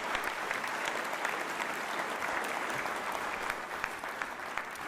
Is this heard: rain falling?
no